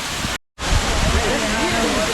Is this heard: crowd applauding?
no